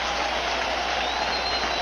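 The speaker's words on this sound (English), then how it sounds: "The crowd standing and roaring." Crowd at a 1999 NLDS Game 4 baseball playoff stadium standing and roaring, a steady, dense wash of cheering that holds at an even level without breaks.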